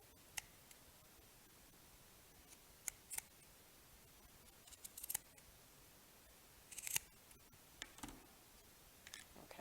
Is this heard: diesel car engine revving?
no